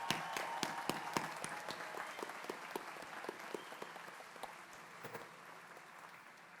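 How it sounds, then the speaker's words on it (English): Audience members at the Elizabethtown College commencement ceremony clap for master's degree recipients. The steady, scattered clapping sounds somewhat distant in a large space and holds an even level for several seconds. "Let's offer another round of applause for our master degree recipients."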